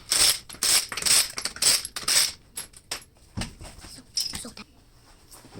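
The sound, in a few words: removing Toyota Sienna wheel with ratchet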